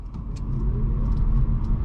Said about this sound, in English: Let's try out the acceleration on the Leaf.